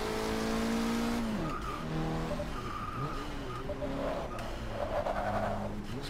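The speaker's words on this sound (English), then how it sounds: "That turbo sounds meaty." A revving turbo racing car engine in Forza 6 Apex autocross, with a throaty turbo roar, shifting pitch through gears, with tires squealing and skidding in bursts throughout.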